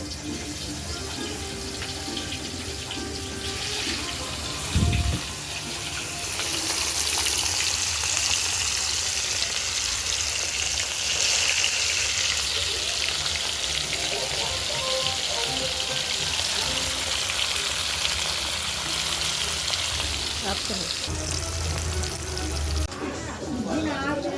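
Small pieces frying in hot oil, a steady loud hiss and crackle like pouring water that swells after a few seconds and continues throughout, with talking over it.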